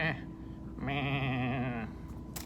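A human voice imitates a sheep bleat for a Minecraft toy sheep from a McDonald's Happy Meal: one drawn-out, wavering nasal "meh" lasting about a second, close and clear.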